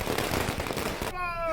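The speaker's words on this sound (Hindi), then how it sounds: "बीजेपी के कार्यकर्ताओं ने टावर चौक पर जमकर आतिशबाजी की है" Party workers set off fireworks at Tower Chowk in Deoghar, a dense run of crackling pops and bangs under crowd noise and voices, ending in a sharp whistling whine as a rocket rises.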